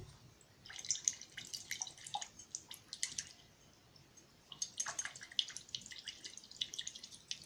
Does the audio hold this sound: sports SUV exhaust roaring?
no